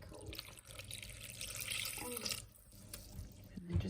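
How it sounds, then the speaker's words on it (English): Very cold water running into a bowl of homemade play dough mixture, a quiet, steady trickling pour that fades briefly near the end before a small clunk. "we're gonna add 1 cup. 1 cup of water. It's cold water."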